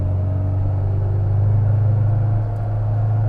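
A 1997 Mini Cooper engine on a cold day, a steady close low rumble that swells slightly as the throttle is pressed, with a faint whine above it.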